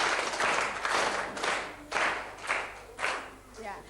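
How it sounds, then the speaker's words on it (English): An audience claps for a speaker, bursts of hand clapping that swell and fade in uneven waves, fairly close and moderately loud, with a voice briefly heard among them. "Can you clap for him?"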